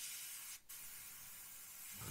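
A Gaahleri GHAC 98D airbrush sprays paint for freehand camouflage work, giving a faint, steady hiss that dips briefly once before resuming.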